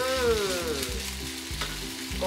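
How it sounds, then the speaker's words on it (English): Chicken skin sizzles steadily in a hot pan for teriyaki, a loud, close, continuous frying hiss with crackling spatter and no voices. "Keep cooking until the skin is golden brown and crispy."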